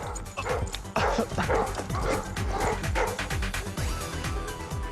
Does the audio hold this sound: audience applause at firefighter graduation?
no